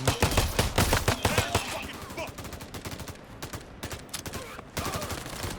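Gunfire in the Payday 3 heist game, with loud rapid bursts of automatic shots up close that thin into scattered shots and then pick up again, with someone talking.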